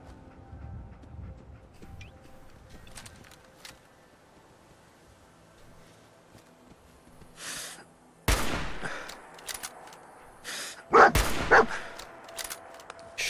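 Dogs barking in Fallout 4, a few sharp barks and yips in bursts near the end after a quiet stretch, with loud gunfire-like hits mixed in.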